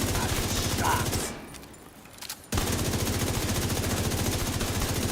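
Video game gunfire plays as a dense, rapid automatic burst, cuts out for about a second, then returns as a steady loud stream of shots.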